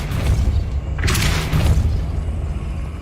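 Depulso, a force-push spell in the Hogwarts Legacy video game, goes off as a loud deep whooshing boom over a steady rumbling game backdrop and tails off slowly.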